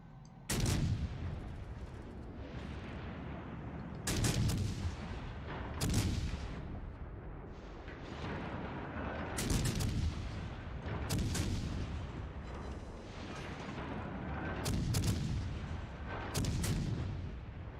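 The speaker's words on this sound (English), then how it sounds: "Concentrate fire on the enemy warship in position of a strategic target." Naval gunfire from warships in World of Warships Legends, a series of loud booming salvos arriving every couple of seconds, each a sharp blast with a rumbling decay, over continuous battle background noise.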